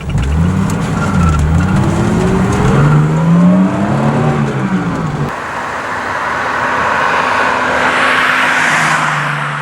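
BMW E9 coupe with a 2.8-liter M30 inline-6 in Need for Speed, its engine loud and continuous, revving with rising and falling pitch, then shifting to a steadier, brighter drone in the second half.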